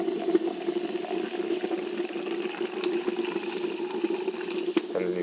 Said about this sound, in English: Here you pour in the water.